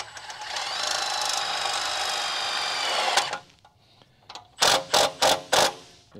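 A clamp is fastened to an RV frame during 7-way plug wiring, heard as a steady mechanical whir from a power tool. After a pause come four sharp, closely spaced clicks and knocks.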